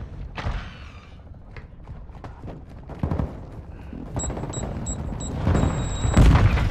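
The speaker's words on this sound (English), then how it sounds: "Hostile airstrike near your location." Airstrike explosions rumble through Modern Warfare 2 multiplayer on PS5, mixed with bursts of gunfire and mechanical clatter, ending in a heavy, close boom.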